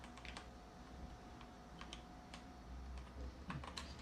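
A computer keyboard is typed on, quiet scattered keystrokes clicking in short irregular bursts throughout, close and fairly faint.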